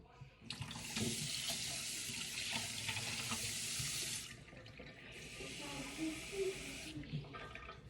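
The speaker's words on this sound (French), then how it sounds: "Attends, je prépare mon verre d'eau." A kitchen tap gushes into a glass, a loud steady rush for several seconds, then a short pause before a second, slightly softer run of water, with faint voices in the background.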